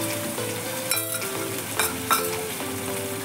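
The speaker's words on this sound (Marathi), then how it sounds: "मग हे चांगलं हलवत राहायचं तेल सुटेपर्यंत।" Tomato and red chilli gravy fries in oil while being stirred, a close crackling sizzle broken by a few sharp scraping stirs over about three seconds.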